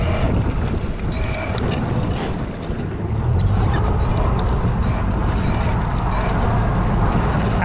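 A commercial fishing boat's engine rumbles steadily under rushing wind and water on open sea, dipping briefly and then swelling louder as throttle is added, with a faint voice in the background.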